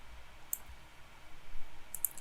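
Computer mouse clicks in a Maya 3D modeling session: a single sharp click, then a quick pair of clicks about a second and a half later, over quiet room hiss.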